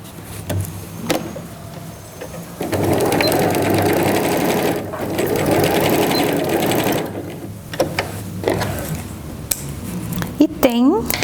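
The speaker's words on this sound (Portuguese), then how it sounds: "E faço uma costura." Electric sewing machine running in a steady whirring burst of several seconds, stitching the lining of a cosmetic bag made with clear plastic, with short pauses, handling noises and a voice speaking around it.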